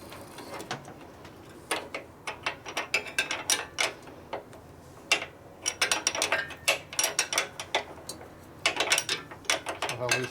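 A ratchet wrench clicks in quick, uneven bursts while tightening a loose nut on a 1941 Harley WL flathead motor, close and crisp with short pauses between strokes.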